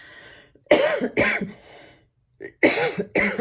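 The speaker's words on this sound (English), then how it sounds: "I'm having a coughing fit." Someone coughs repeatedly in harsh, close bursts, two quick coughs, a pause, then two more.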